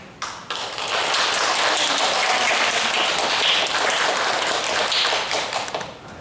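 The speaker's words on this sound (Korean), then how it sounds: "박수로 환영하겠습니다" Sustained applause from a church congregation welcoming a missionary speaker, dense and steady for several seconds before tapering slightly at the end.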